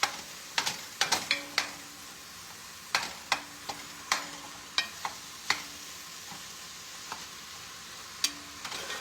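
Sausage frying in a pan with onion and celery gives a quiet, steady sizzle broken by scattered stirring clacks, with no talking.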